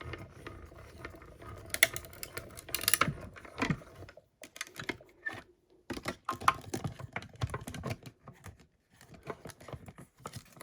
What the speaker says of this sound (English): then I'm going to run it through the cut and emboss.